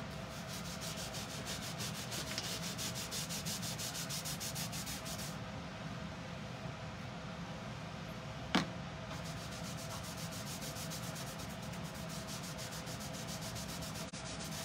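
Wax is rubbed onto a wooden honey bee tray in a steady, close, scratchy back-and-forth rhythm like light sanding, with one brief sharp knock partway through.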